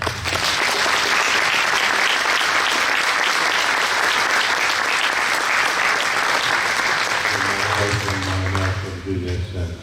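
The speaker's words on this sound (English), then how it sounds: "I want you to give him a big applause." An audience at a Tomb of the Unknown Soldier ritual bursts into loud, sustained applause that tapers off near the end as a voice begins to speak over the fading claps.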